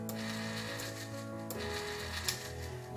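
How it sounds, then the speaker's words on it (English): Breckwell pellet stove auger drive running, a faint steady mechanical whir and hum with gear-like tones and a couple of small clicks. "I can make the auger drive"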